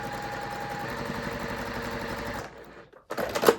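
Sewing machine stitching down strips of scrap fabric for a braided purse, a steady mechanical whir running nonstop for about two and a half seconds before cutting off, followed by a short burst of handling noise.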